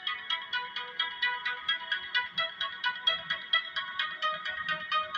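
Synthesized triangle-wave tone pulsing in a steady repeating rhythm, fairly quiet and alone with no voices, its soft buzzy timbre resembling a ringtone.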